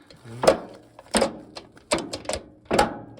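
A Massey Ferguson 35 tractor's gearbox shifts after being freed from sticking in gear, producing four loud, close mechanical clunks spaced roughly evenly, with no voices.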